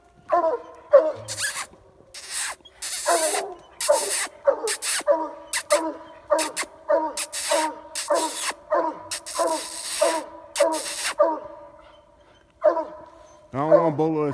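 Coonhound barking repeatedly at a good-sized raccoon up a tree, sharp barks in an irregular, insistent rhythm, fairly close, with a voice briefly heard and a louder howl near the end.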